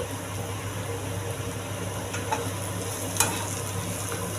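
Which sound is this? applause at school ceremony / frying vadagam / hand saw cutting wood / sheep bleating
frying vadagam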